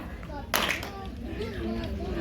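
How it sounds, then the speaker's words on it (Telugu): Children clap their hands on command during a community Ganesha Chaturthi celebration game: one sharp burst of clapping, under ongoing voices of a leader and kids talking. "Clap."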